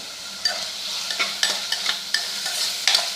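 Onions sautéing in a pan for tomato biryani: a soft, steady sizzle under repeated spatula scrapes and taps about every half second, close up, with no voices.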